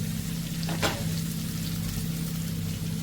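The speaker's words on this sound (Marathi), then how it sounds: "तर आता याला मी पाच मिनटं तरी चांगलं मिडियम फ्लेमवर फ्राय करून घेणार आहे" Fish fries in oil in a pan over a medium flame, giving a close, steady sizzle with a brief louder crackle near the start.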